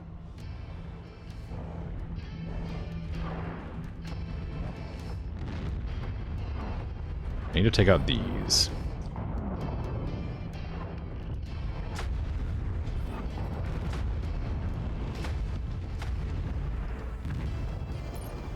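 Heavy explosions and tank fire in the mech combat game MechWarrior 5: Mercenaries rumble as a dense, continuous battle din, with one sharp, loud blast standing out midway and someone talking briefly over it.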